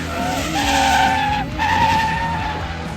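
Two cars drift in tandem on a track, their tires squealing in a loud sustained screech over engine roar, with a brief dip before the skid swells again.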